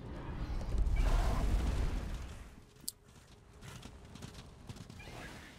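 Horse hooves clattering and a whinny up close in the video game Darksiders 2, followed by a sharp crack and quieter scattered thuds under a low background rumble.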